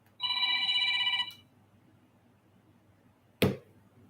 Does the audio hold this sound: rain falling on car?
no